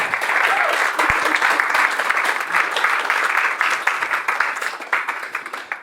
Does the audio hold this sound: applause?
yes